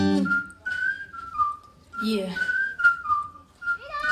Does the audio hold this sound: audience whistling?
yes